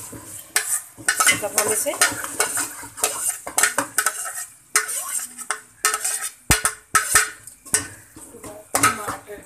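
Eggplant goes into a frying pan of onions and pickle spices for achari baingan bhurta, followed by repeated scraping and clinking of a metal spoon against the pan with a faint sizzle, close up, under brief speech.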